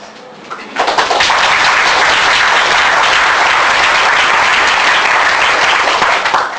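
A conference audience breaks into applause during a keynote address, a sudden dense burst of clapping that starts about a second in and holds loud and steady to the end.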